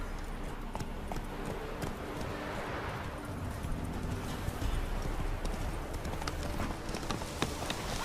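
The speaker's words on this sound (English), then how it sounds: "Whoa there, Roach" Hooves of a horse in the video game The Witcher 3 clip-clop in a steady galloping rhythm, fairly faint under constant background ambience.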